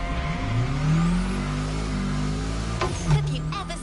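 Mini supercar engine in a PS5 racing game revving up and down in loud, continuous swells, pitch rising and falling with a couple of sharp throttle blips near the end, no talking.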